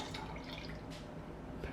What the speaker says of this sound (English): So let's pour our milk